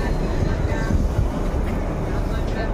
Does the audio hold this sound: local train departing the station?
yes